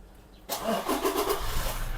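A 2018 Toyota Fortuner 2.8 SUV engine cranks and catches abruptly, then settles into a steady, rumbling idle close by.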